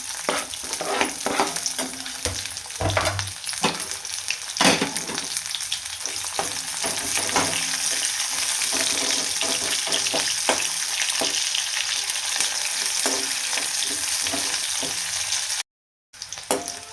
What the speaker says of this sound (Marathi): तर मी उभा कट करून घेतलेला कांदा आहे आपल्याला छान परतून द्यायचा